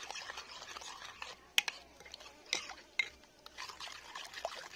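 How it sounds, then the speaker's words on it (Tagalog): Caldereta sauce is stirred in a pan, giving a faint wet swishing with a few sharp spoon taps against the metal, quiet and steady with no talking. "Tapos haluhalin lang natin hanggang sa matunaw."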